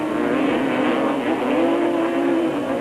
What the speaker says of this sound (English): The Pro Quad category caters for modified multi-terrain vehicles with engines larger than 200 cc's